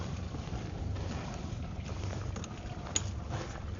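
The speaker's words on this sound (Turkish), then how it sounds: "Tekne geriye gidiyor. İleri vitese verdim." A motor boat pulls out of a marina in forward gear, its engine a steady low rumble mixed with water wash and wind buffeting the microphone, close and continuous with no talking.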